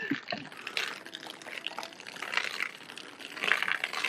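Hot water pouring out in a strong flow at a sanitary building construction site, a steady splashing gush that swells and fades over several seconds, close and moderately loud, with no talking.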